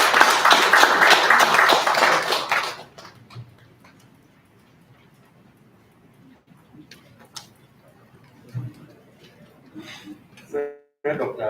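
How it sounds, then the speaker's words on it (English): Brief round of applause for a speaker at a regional health directorate's annual review meeting: about two and a half seconds of loud, dense clapping that stops abruptly, then a quiet room with faint shuffling and a few short noises. "Please welcome him with a round of applause"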